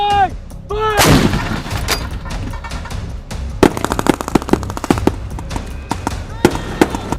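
An M119A2 howitzer fires during military training, with a heavy boom near the start followed by a series of sharp, loud reports and cracks spread through the clip, with voices shouting commands amid the blasts.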